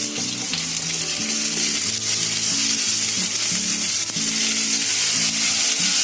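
Onions frying in a pan with ginger-garlic paste, a steady loud sizzle close by, with stirring movements through it and a faint background tone.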